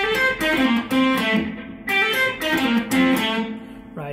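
Distorted electric guitar plays the closing phrase of a song in standard tuning, a handful of sustained, bent notes and short stabs that ring out loud and clear with no talking over them.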